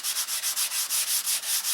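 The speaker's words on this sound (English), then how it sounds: "sanding off any of the 80 grit sand marks that I had in it" Fine 400-grit sandpaper rubs back and forth across wing sheeting in quick, even strokes, about ten hissing passes in under two seconds, close and steady with no voices.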